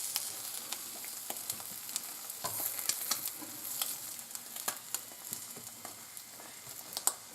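Eggs and bacon fry on a glass-top stove, giving a soft, steady sizzle with scattered pops and crackles and a few utensil taps; nobody talks.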